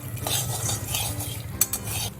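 Dry-roasted peanuts and chickpeas are stirred in a pan over low flame, with steady scraping and rattling of the utensil against the metal and a sharp clink near the end, close and fairly loud with no talking.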